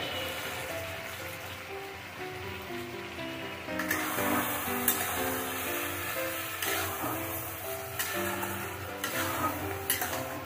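Ridge gourd sautéing in a pan with a watery cumin and coriander paste: a low sizzle that swells into louder, wetter frying and stirring partway through, with scattered clinks over a steady musical background.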